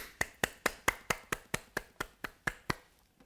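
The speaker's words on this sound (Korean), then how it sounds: "감사의 박수를 한번 크게 올려드리겠습니다" At a Korean online church worship service, the gathering claps in thanks with about a dozen sharp, evenly spaced claps in steady unison rhythm, fairly close, then stops.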